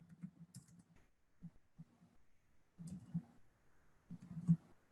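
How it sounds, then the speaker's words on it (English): Typing on a computer keyboard, soft quiet bursts of key clicks in short irregular clusters separated by brief pauses. "I'm just going to start typing in master."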